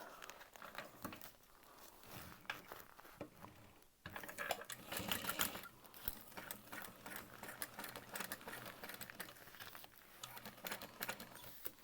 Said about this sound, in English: And then we're going to top stitch this.